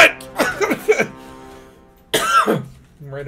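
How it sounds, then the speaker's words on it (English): A short fit of harsh coughs close to the microphone during a live-streamed Elite Dangerous session: a quick cluster of bursts, a pause, then another rough hacking burst. "Random coughing fit right as I mute"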